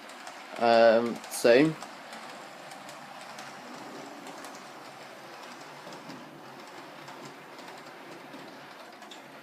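A Hornby Santa's Express model train runs with a soft, continuous mechanical rattle and clatter, heard faintly after someone speaks briefly at the start.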